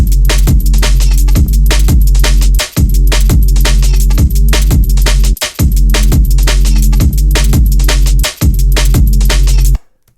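Drum loop reshaped into a pitched, droning bassline by Ableton Live 12's Spectral Resonator, loud and dense, with steady rhythmic hits over a sustained low tone and brief dropouts at loop points.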